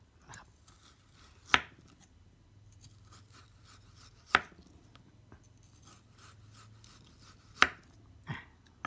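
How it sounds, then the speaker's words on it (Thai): Knife cutting thin slices of frozen meat, heard as three sharp, sudden crunching chops spaced a few seconds apart. A softer fourth chop follows near the end against a quiet background. "เรามาดูว่ามันจะเกิดอะไรขึ้นเมื่อ หั่นเนื้อแช่แข็ง"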